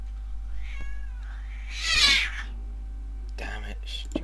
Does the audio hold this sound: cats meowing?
yes